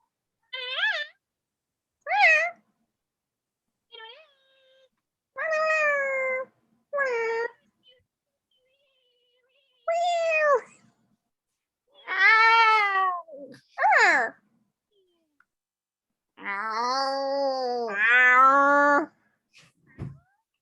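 Cats that have come into a room meow repeatedly, giving a series of loud, close, drawn-out cries and yowls separated by silent pauses, some rising and falling in pitch.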